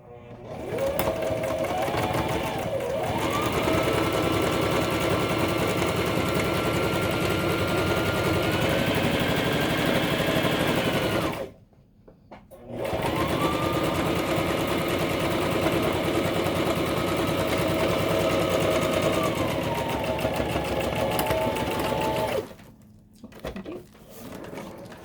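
Sewing machine stitching fabric side panels together, two long steady buzzing runs close by with shifts in motor pitch as it speeds and slows, separated by a brief pause, ending with a short burst.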